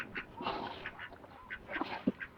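Pet ducks quack in scattered, fairly close bursts while being fed a mix of coconut pulp, banana pith and ripe banana, with soft background rustle between calls.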